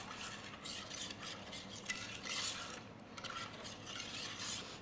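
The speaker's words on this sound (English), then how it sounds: "which I am going to stir with a metal spoon until it is thick enough to coat the back of the metal spoon." A metal spoon stirs egg custard in a pan, making soft, repeated scraping and swishing strokes at a quiet, close level with no talk.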